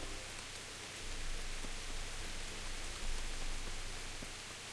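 Steady rain falls in the medieval world of the game Kingdom Come: Deliverance, a continuous soft hiss of drops, even and unbroken, at moderate volume with no voices.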